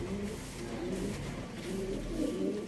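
Pigeons coo softly and repeatedly in low, rolling calls, a few birds close by with steady background hum and no talking.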